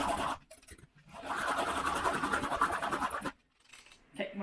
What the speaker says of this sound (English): a hand whisk that I really like using when I'm doing stuff with eggs